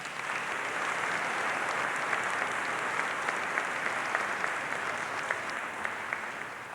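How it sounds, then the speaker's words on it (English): A large audience at a high school graduation ceremony gives steady, sustained applause, a dense wash of clapping hands heard clearly for several seconds. "Please give all of our guests one more loud round of applause."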